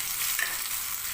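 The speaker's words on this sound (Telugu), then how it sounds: "తాలింపు వేసేసానండి అన్నీ 1 by 1. ఎండుమిరపకాయలు, కరివేపాకు," Dried red chillies and curry leaves tempering in hot oil for a village-style raw mango dal, a bright, continuous sizzle with crackly spatters, close and loud, no talk.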